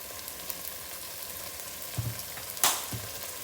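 Tomatoes and onions with turmeric fry in a pan for a gongura paneer pulao, a close continuous sizzle broken by a few soft stirring knocks and one sharper scrape.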